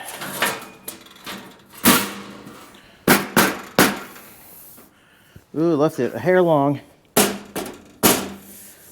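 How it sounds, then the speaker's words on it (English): Hammer blows knock a welding table part tight into a corner on a cheap Harbor Freight, Vevor or Klutch style welding table: several loud, sharp metallic strikes spaced irregularly, with someone talking between them. "I'm just going to take my hammer and knock that down tight into the corner."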